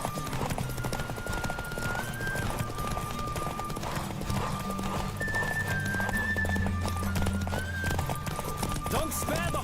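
Horse hooves clip-clop at a fast gallop during a horse race in The Witcher video game, a steady driving rhythm under dense game music and effects, with occasional whinnies and a voice speaking over the action.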